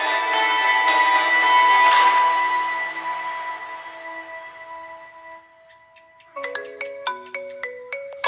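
A mobile phone ringtone rings in a Assamese TV drama scene, a sustained melodic tone fading over several seconds, then a crisp repeating pattern of short bright notes, with no one talking.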